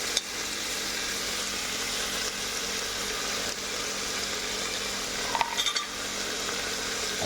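Green chillies, cashews and other ingredients for chicken pasanda paste frying in a pan, a steady broad sizzle throughout with a few brief clinks of a utensil against the pan near the end.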